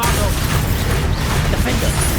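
Bombarda spell blasts in Hogwarts Legacy video game combat: loud, dense, continuous rumbling booms and crashes, with a voice partly mixed in beneath the din.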